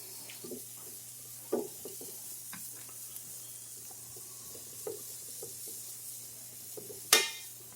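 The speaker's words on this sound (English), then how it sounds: "Just going to saute this up till it gets a little bit soft." Peppers sautéing in a pan for chicken peperonata, a quiet steady sizzle broken by soft stirring scrapes and taps, with one sharp louder clatter near the end.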